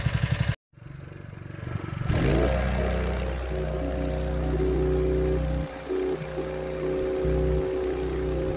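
A small fire-fighting trailer pump engine starts up after a brief pause and settles into a steady, rumbling idle, loud and close.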